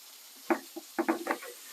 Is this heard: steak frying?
yes